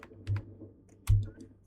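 A few sparse keystrokes on a computer keyboard while entering a terminal command, close and quiet, with two heavier key thumps about a second apart and lighter clicks between them.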